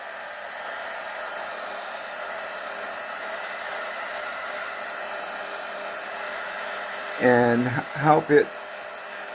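A heat tool on its lowest setting blows steadily for several seconds to dry watercolour artwork, a continuous airy whoosh that runs alone before a person starts speaking near the end.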